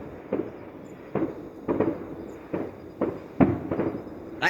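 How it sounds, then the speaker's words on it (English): Distant fireworks from the Nowra Show going off beyond trees, heard as a series of soft, spaced thuds and booms at irregular intervals, faint and far away with no talking. "That's the fireworks that you guys can hear."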